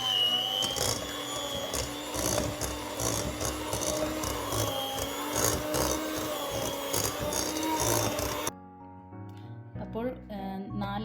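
An electric mixer whirs steadily while beating eggs one by one into lemon cake batter in a home kitchen, a continuous motor drone with clattering against the bowl, then it stops and speech and light music follow.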